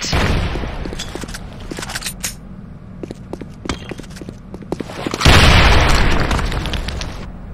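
Grenade explosion in a first-person shooter match, a loud broadband boom bursting in near the end and decaying over two seconds, preceded by scattered sharp gunshot-like pops and game effects.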